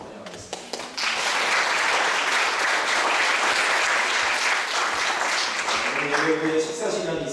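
A church congregation at Sunday worship claps to welcome new members, a dense, loud wash of applause that swells in after a brief pause and holds steady before a voice starts to speak as it fades.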